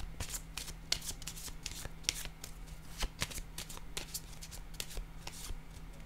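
Tarot cards being shuffled and drawn by hand, a steady run of crisp riffling slaps and flicks at close range, with a faint low hum underneath and no voices.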